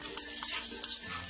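Chicken fried rice being stirred in a pan, with a spoon scraping and clinking against the metal in quick repeated strokes over a soft sizzle, close and fairly quiet.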